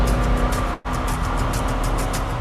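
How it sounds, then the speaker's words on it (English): A 750-horsepower V8 race car engine is already running loud and rough, with a sharp momentary cutout before the steady roar resumes. "You hear that sound of 8 cylinders and 750 horsepower fire up."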